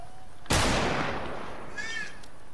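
A single sharp gunshot from the Fortnite video game cracks out loudly, then trails off in a long noisy decay, followed by a faint high chirp near the end.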